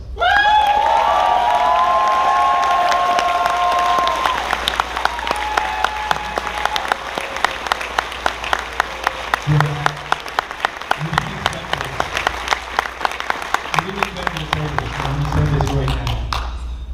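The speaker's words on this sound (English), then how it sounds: "So everybody, I'd like to give a big round of applause to Megaplex's newest board member, Blitz." An audience applauds at the 2018 Megaplex XVII convention closing ceremony, with loud sustained clapping and some cheering throughout, and a few faint voices and whoops mixed in.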